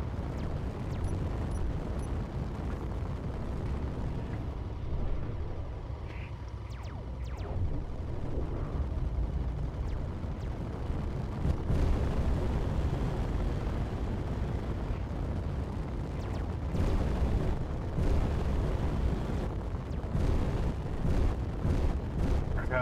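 Explosions in the space building game Space Engineers during a lunar assault, a continuous low rumbling barrage of booms and blasts lasting the whole stretch, with people talking over it now and then.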